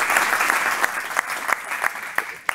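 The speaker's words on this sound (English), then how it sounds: "grant this with a round of applause" A room full of people applauding, dense steady clapping with a few sharper claps standing out, no voices.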